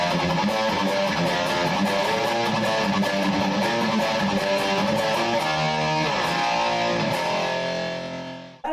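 An electric guitar with distortion plays octave lines from a song, a loud, sustained run of ringing notes that drops away as the last chord cuts off.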